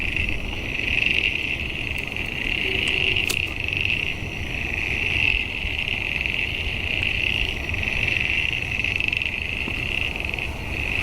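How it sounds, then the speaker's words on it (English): Frogs calling at night by a lake, a dense, steady chorus of high trilling voices pulsing in slow waves, with a single nearer croak standing out briefly among them. "Wow, listen to that sound of frog calls."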